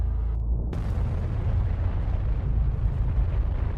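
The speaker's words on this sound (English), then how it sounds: "The explosion is immense, and the shockwaves even more so." A massive explosion in a horror video game bursts in suddenly, then a deep, rolling rumble of shockwaves sustains loudly to the end, with no talking.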